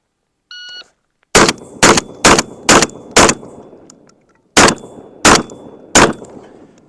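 Mossberg 940 Pro semi-auto shotgun firing Winchester Ranger slugs: a short timer beep, then a rapid string of five loud, sharp blasts, a brief pause, and three more booming shots, each with a ringing tail outdoors.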